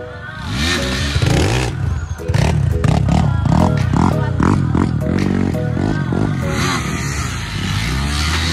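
A 650 motorcycle ridden hard, its engine revving up and down in repeated rising and falling surges, loud and close throughout with a rough, clattering edge.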